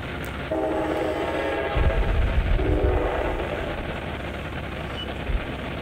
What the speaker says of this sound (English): this is probably train 19 coming off.